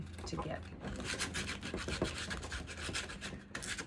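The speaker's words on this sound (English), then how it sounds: "So I'm gonna actually sand this with, and this is 100 grit sandpaper." A ball-jointed doll's neck is rubbed with 100 grit sandpaper, giving a close, continuous scratchy rasp in quick back-and-forth strokes, steady and fairly loud throughout.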